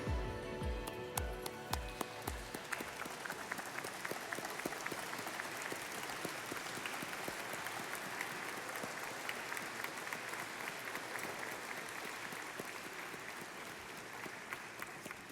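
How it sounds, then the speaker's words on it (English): A standing audience at a Dallas ISD athletic hall of fame induction ceremony applauds eight honorees with steady, dense clapping that stays even and continuous throughout. "Audience, if you would, please stand and applaud these 8 honorees."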